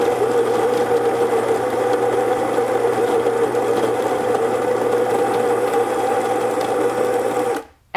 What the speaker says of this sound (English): So this is what it sounds like to grind with the Encore ESP.